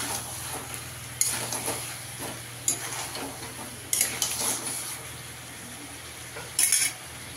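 Potatoes stirred into chicken in a pan, with a utensil scraping and clinking against the metal in scattered strokes over a low, steady sizzle, close and moderately loud.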